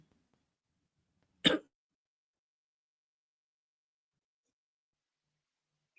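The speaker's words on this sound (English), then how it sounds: "Sorry, I'm about to cough, so somebody just take it away." A single short cough from one person, close and sharp, surrounded by near silence.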